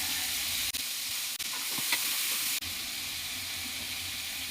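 Loud, continuous sizzle of cut potatoes sautéing with eggplant in a pan, broken by a few brief gaps, with an occasional stirring knock.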